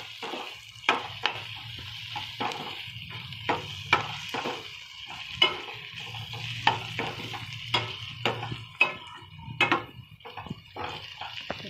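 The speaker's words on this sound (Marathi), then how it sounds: "आपल्याला थोडे हे परतून घ्यायचे।" Masala sautéing in a pan for a dried shrimp (karandi) bhaji, a soft low sizzle broken by frequent sharp scrapes and taps of a spoon stirring against the pan.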